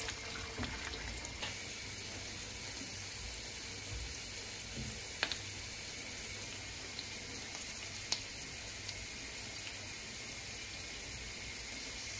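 Almonds and pine nuts sizzling in a cup of oil in a pot, a steady, even frying hiss with occasional faint clinks, close and continuous with no talk.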